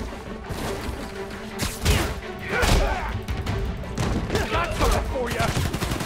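Bursts of gunfire from Marvel's Spider-Man: Miles Morales, with several sharp shots and thuds against a busy game soundscape, mixed with spoken character dialogue.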